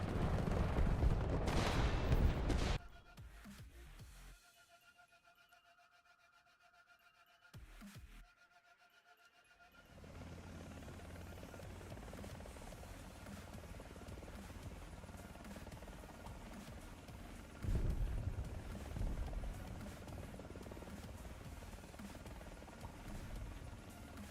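A helicopter in the War Thunder helicopter PvP mode, its rotor drone loud at the start, then dropping away to a quieter, steady hum that swells again later, with bursts of distant gunfire.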